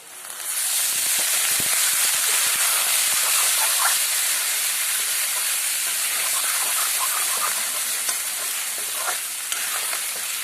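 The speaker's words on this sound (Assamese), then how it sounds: "পানী অকণ দি লৰাই দিওঁ" A fish curry with lily stems sizzles and hisses loudly in a hot pan as a little water goes in and it is stirred, the steamy hiss filling the clip steadily after a brief quiet start.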